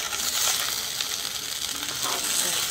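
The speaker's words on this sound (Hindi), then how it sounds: "दो मिनट के लिए लो फ्लेम में फ्राई करेंगे" Fish frying in a pan over a low flame gives off a steady, soft sizzling hiss that holds evenly throughout, with no voices.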